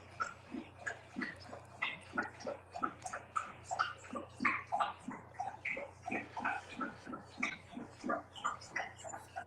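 A pit bull laps water close up, a fast, even run of wet slurps that keeps going for about ten seconds over a low steady hum.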